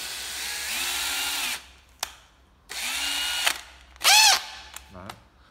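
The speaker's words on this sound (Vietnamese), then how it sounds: "Khoan đầu 13 ly." A Japanese electric drill with a 13 mm chuck whirs in several bursts, spinning up and winding down between runs, with a short high-pitched squeal and a few clicks, close and loud with no talk.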